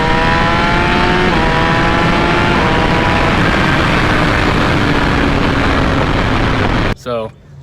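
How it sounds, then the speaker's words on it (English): A sport motorcycle with an aftermarket exhaust, flashed ECU, quick shifter and auto blipper drones loudly and close at steady high revs with rising harmonic tones, then cuts off abruptly near the end with a brief sputter. "this exhaust does sound pretty good"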